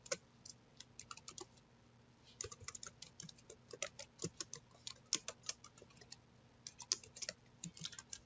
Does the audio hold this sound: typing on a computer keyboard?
yes